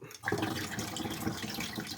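Liquid stop bath for black-and-white film developing poured back into its container, a steady close splashing and gurgling stream that starts abruptly and runs without pause, with no talking.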